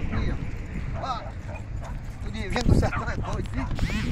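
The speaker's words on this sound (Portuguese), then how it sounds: "Olha o cachorro de Gênio do Sertão aqui, ó" A dog barks and yips in short, close bursts at a rural spot in the Brazilian sertão, mixed with creaking and voices talking over it.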